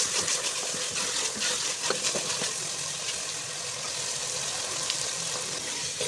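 Minced meat and peas fry steadily in a pan, a dense continuous sizzle with faint scraping and small pops, close by and alone without any voices.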